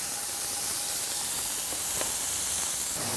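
Beef ribs sear in a large, very hot pot over three lit burners for cholent, giving a loud, continuous hissing sizzle close up with a few faint pops.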